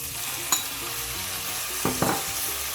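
Dried fish and tomato sauté in a pan with a constant close sizzle, broken by a few quick spatula scrapes and stirs.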